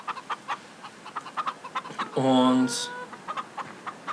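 Chickens cluck in repeated short bursts in a farming video game, one drawn-out squawk rising loud in the middle, with someone speaking German briefly.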